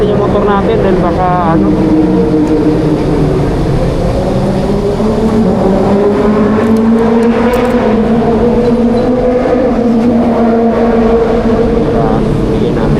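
A motorcycle engine runs steadily and loudly up close at a roadside, with its drone shifting slightly in pitch throughout, while someone talks over it.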